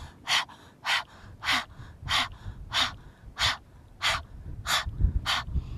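Breath-of-fire practice with the tongue out like a panting puppy: about nine sharp, forceful breaths in an even rhythm roughly twice a second, close and clear with quiet gaps between.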